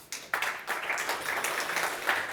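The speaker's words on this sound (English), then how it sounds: "giving them warm applause" An audience at a deep-tech pitch session at an investment conference claps, starting with a few separate claps and quickly building to steady, moderately loud applause.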